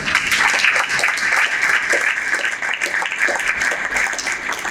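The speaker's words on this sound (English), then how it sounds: "So let's give ourselves a round of applause." Steady audience applause fills a hall during a football hall of fame induction ceremony, dense and sustained for the full stretch with no voices over it.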